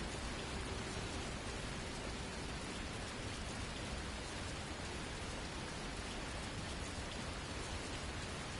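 Steady rain pours down in Fernbus Coach Simulator on a Paris to Luxembourg coach trip, a dense even wash of drops on surfaces with no voices.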